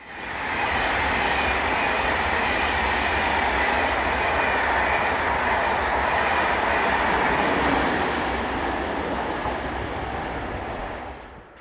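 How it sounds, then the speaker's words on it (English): ICE high-speed train sets rush past on a German main line, a loud, broad roar that swells in quickly, holds steady for about ten seconds and then fades. "In the opposite direction, two of the regular ICE train sets to be seen on this line"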